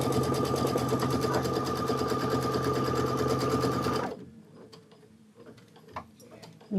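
An embroidery sewing machine stitching out a quilt block for a Kimberbell Hello Sunshine watermelon design, with a steady rapid ticking rhythm running for about four seconds before stopping abruptly, leaving faint handling clicks and rustles.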